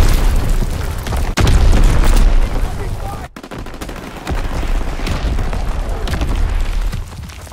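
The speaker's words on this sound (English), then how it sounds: "Dropping Fritz X bomb." Loud, dense battle noise from the Call of Duty WW2 video game as a Fritz X bomb drops: heavy booming explosions blended with continuous gunfire, dominating throughout.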